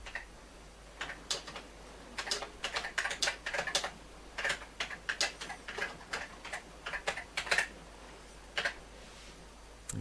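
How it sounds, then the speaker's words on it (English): Keys clack on the keyboard of an ICL One Per Desk Computerphone as a message is typed. The keystrokes come as irregular clusters of crisp, close clicks with brief pauses, over a quiet background hiss, and nobody speaks. "So let's type out our message."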